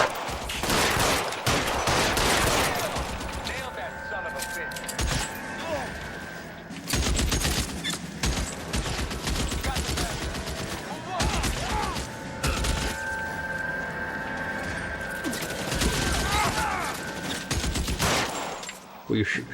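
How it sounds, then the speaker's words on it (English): Video game gunfire in L.A. Noire crackles in dense volleys, a long burst early and another midway, with mechanical clatter between; a voice speaks faintly under the shooting. "Well, you're shooting at a tree here."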